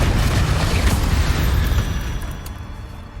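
A booming fiery blast from the Confringo spell in the fantasy game Hogwarts Legacy, loud and heavy at first, then rumbling and fading away over a few seconds.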